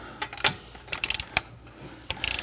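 A torque wrench ratchets on the lug bolts of a BMW 1M or M3 wheel, quick bursts of close clicking with short pauses between them, ending in a rapid run of clicks.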